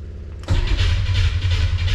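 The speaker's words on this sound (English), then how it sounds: "Cranking over much faster." A car engine fitted with a newly installed Pertronix electronic ignition cranks over quickly after a click, the starter churning steadily and loudly without catching.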